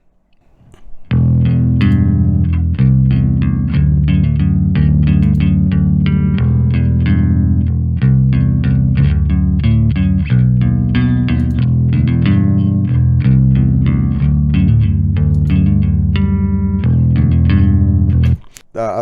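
Sustained bass guitar notes played through chorus and effects, a steady run of deep, shimmering tones ringing out clearly with no talking.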